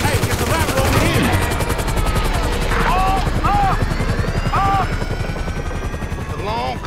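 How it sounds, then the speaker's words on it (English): A helicopter hovers overhead in the GTA V video game, its steady rotor chop running throughout under loud gunfire bursts, with game voices and shouting over the top. "We ain't going nowhere with that chopper on us!"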